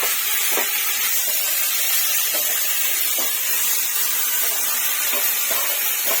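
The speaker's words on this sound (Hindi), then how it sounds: "इसको हम इसी तरीके से टमाटर भून लेंगे" Chopped tomato fries with onion in a pan for egg bhurji, sending up a constant hissing sizzle broken by light, intermittent taps of a spatula.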